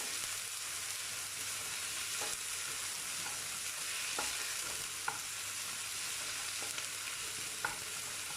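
Onions sautéing in a pan with ginger-garlic paste give a steady, close hiss of sizzling throughout, punctuated by occasional sharp clicks and scrapes from stirring; no voices.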